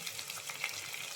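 Onions frying in a pan while an okra and dal curry is being made, giving a steady, moderately soft sizzle throughout with no talking.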